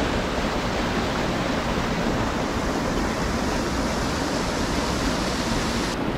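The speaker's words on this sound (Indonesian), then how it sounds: "Ini air terjun ketiga yang kita lihat dalam jalur Torian pas turun." A waterfall on the Torean trail in Lombok roars close by, a loud, steady, broadband wash of falling water that holds constant with no voices over it.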